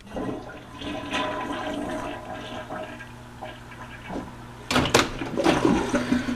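A toilet flushes in a two-bedroom villa at Disney's Saratoga Springs Resort and Spa, a close, steady rush of water with a louder gurgling surge near the end.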